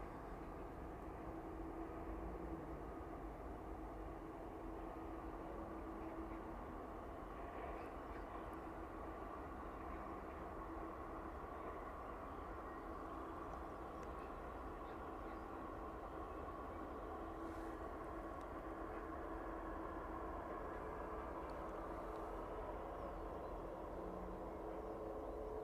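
A Ryanair passenger jet arriving at East Midlands Airport on an evening service from Krakow, a steady, fairly faint engine drone with a low rumble that stays even throughout, with no talk.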